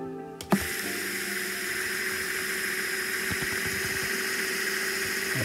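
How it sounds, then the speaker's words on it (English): A small DIY dosing pump for a reef aquarium runs on a bench test power supply, giving a steady mechanical whirr with a faint ticking, ratchet-like rhythm after a brief click at switch-on, close and alone with no talk. "hook up my power supply and the power terminals to the pump, just to test it, make sure this works correctly"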